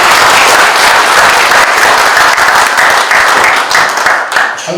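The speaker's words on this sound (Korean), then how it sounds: "다 같이 수상자 여러분께 축하의 큰 박수를 부탁드립니다." Loud, dense applause fills a hall at the opening ceremony of a crime-prevention event as scholarship award winners are honored, continuing steadily before beginning to thin out at the end.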